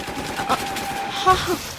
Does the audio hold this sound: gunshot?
yes